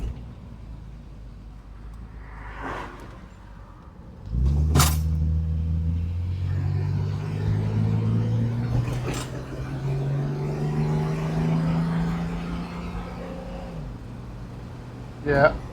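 A car engine starts up and runs while driving, rising steadily in pitch through the gears with a shift near the end, close and loud inside the cabin, with people talking over it now and then.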